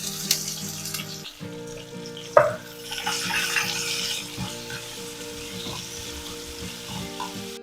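Onion sizzling in hot tempering oil with dried red chilli pieces and green chilli while masala dosa filling is cooked; a steady close frying crackle with a sharp clatter of ingredients dropping into the pan, under faint background music tones.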